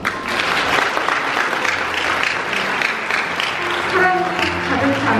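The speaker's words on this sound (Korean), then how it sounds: "신랑 측 아버님께 다시 한번 큰 박수 부탁드립니다." Sustained applause from a large crowd at a wedding fills the room, steady and dense for the whole stretch without letting up.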